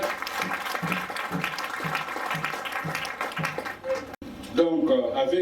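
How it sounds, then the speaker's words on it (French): Audience applause at an official launch event for an association in Kinshasa, a steady wash of clapping under music or voices that drops out near the end, with talk following. "Est-ce qu'on peut applaudir pour les initiateurs?"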